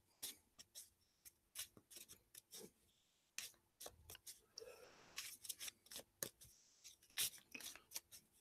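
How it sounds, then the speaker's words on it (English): Initiative playing cards being shuffled at a tabletop Savage Worlds game session, a run of quiet crisp riffling snaps and papery rubs in irregular bursts, close by with no talk. "I am shuffling the initiative cards."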